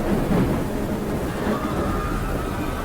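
A violent storm rumbles with steady, dense rain and low thunder, a continuous loud wash of noise with no pauses and no voices.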